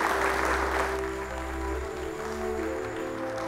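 Dense, steady applause from an audience during a film scene, filling the whole stretch as one continuous wash of clapping over a faint sustained tone, with no talk.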